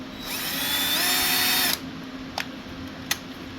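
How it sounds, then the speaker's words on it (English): A power drill whirs steadily for about a second and a half, turning the seat backrest adjuster of a 2000 BMW E39 540i, then stops, followed by two brief clicks. "put a drill on the end of it"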